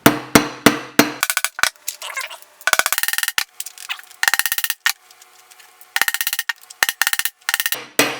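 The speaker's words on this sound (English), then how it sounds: "So I just kind of keep hammering away at this thing." Sharp metal hammer strikes on a rivet in a camper frame come in rapid bursts, clusters of quick blows separated by short pauses, close and loud, with no talking.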